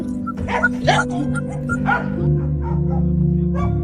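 Several dogs at a dog adoption centre bark and yip close by in quick, overlapping bursts, with some whimpering and a steady hum underneath.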